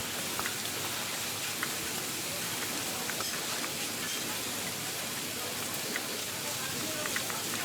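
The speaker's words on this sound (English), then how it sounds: "there's lots of kind of cooking sounds and steamy sounds" Busy kitchen ambience with a steady hiss of steam and sizzling, scattered clinks, and faint voices murmuring in the background.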